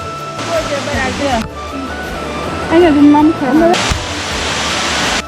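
Elephant Falls in Shillong roars with a steady, loud rush of falling water, swelling and easing in places. Someone talks over the roar for much of the time.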